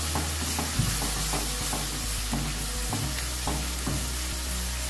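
A masala of red chilli, cumin powder and salt is stirred in a hot pan, producing a continuous sizzle with regular scraping strokes of a spoon, close and fairly loud.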